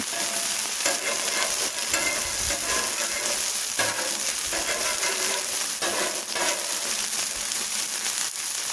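Wagyu smash burgers sizzling on a 36-inch Blackstone griddle, a loud continuous hiss with bursts of crackle and occasional spatula scrapes.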